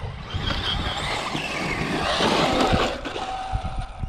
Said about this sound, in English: so when I let off the trigger, you can hear it's dragging